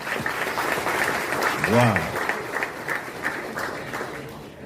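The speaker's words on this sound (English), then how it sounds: "a resounding round of applause." A crowd applauds the introduction of Ghana's vice president at a government rent assistance scheme launch, sustained clapping at a fairly loud level while a voice exclaims briefly over it.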